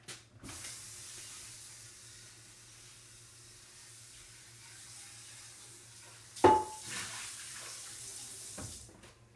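Tap water runs into a kitchen sink as a steady broadband hiss for a quick rinse while cooking split pea soup, with a brief knock of something set down near the end.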